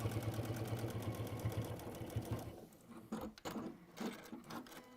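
A sewing machine runs fast and steadily along a stitch line in fabric, then stops and gives a few short uneven bursts of stitching.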